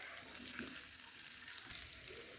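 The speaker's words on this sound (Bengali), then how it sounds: "আলুগুলো দিয়ে ভালো করে কষে নিচ্ছি" Potatoes sauté in a pan for aloo dum, a faint, continuous hissing sizzle that stays even through the short stretch, with no voices.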